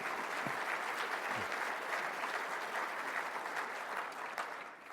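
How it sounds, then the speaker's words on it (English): A dinner audience at the U.S. Hockey Hall of Fame induction celebration applauds steadily, a dense, even wash of clapping from a large crowd that tapers slightly at the end. "you should all give yourselves a round of applause for the great support you're giving USA Hockey."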